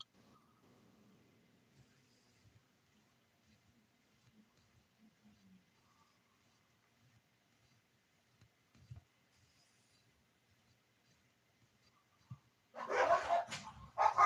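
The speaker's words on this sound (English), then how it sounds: "Crap, my dogs are fighting." Dogs fight in a sudden loud burst of snarling and barking that erupts near the end after a long stretch of near silence with faint scattered noises.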